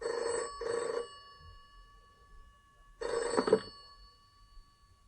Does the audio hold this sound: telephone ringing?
yes